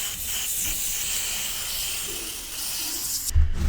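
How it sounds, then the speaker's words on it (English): WD-40 chain degreaser sprayed from an aerosol can onto a SRAM X01 bike cassette, a loud close continuous hiss lasting several seconds, then a brief clatter as the spray stops. "I recommend you to use this one, the WD-40 chain degreaser"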